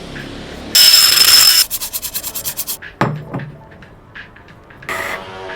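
Scraping and rubbing while an old gasket is removed from the thermostat housing of a 1988 Jeep XJ: a loud sustained rasp, then a quick run of rhythmic strokes, a sharp knock and a final short scrape, with no talk.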